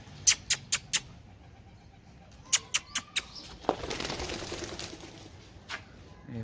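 Pet pigeons flap their wings in short bursts as they land nearby at home, several quick flutters followed by a longer rustle of wings.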